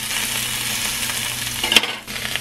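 Broccoli stir-fries with oyster sauce in a hot pan, a steady close sizzle with stirring scrapes and a short clatter near the end.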